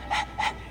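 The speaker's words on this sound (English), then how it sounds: "All that noisy dog breath, day in, day out." Two short, breathy dog pants from a companion dog in the video game Dragon Age II, evenly spaced and fairly close, with no talk over them.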